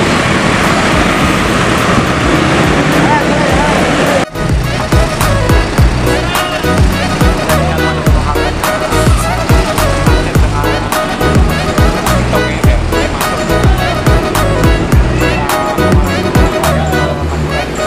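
A bus pulls away at a busy terminal amid loud traffic and road noise, engine rumble and rattling clatter filling the scene, with an abrupt shift partway through as the sound continues dense and close.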